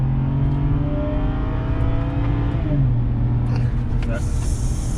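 BMW accelerating hard during a 0-60 run in sport mode, engine note rising steadily then dropping as the gear changes and climbing again, heard from inside the car alongside people talking.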